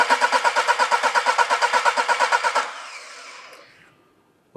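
Car engine cranking on the starter during a cylinder compression test, a steady rapid chugging rhythm of about two dozen even pulses that stops abruptly, then a faint fading hiss.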